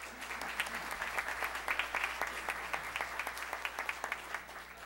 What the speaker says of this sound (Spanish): un fuerte aplauso para los 2 expositores, por favor